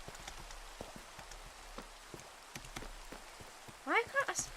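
Steady rain falls in Minecraft, a soft continuous patter under faint scattered game clicks, with a brief chirping burst near the end and no talking.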